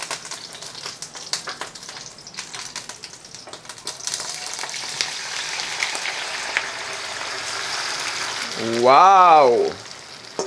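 Shrimp frying in a hot pan for a Bisaya-style shrimp and chicken soup: a steady, close sizzle with spattering throughout, and a short excited voice breaking in near the end.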